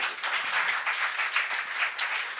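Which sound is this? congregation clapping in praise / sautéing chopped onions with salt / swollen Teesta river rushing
congregation clapping in praise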